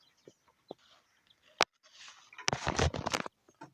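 Chickens cluck near a person indoors, with a few short scattered calls followed by a louder burst of clucking and scuffling in the middle of the clip.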